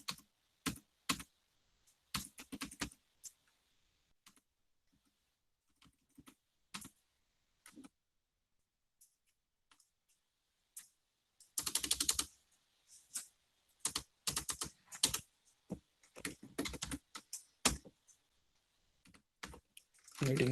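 Bursts of typing on a computer keyboard, clustered clicks separated by quiet pauses, with a dense run of keystrokes midway and close, crisp taps throughout.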